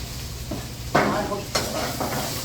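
Pork cartilage (odolbyeo) is stir-fried in a hot pan, giving a loud, close sizzle broken by two sharp surges as the pieces are tossed, with continuous frying hiss between them.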